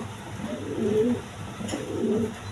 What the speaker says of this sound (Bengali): এইখানে এক পেয়ার মালটেস কবুতর আছে